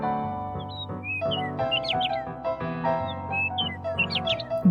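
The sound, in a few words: birds chirping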